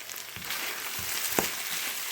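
Naga chili wings fry in a pan while being stirred, a soft steady sizzle with a few muffled scrapes and one sharper knock near the middle.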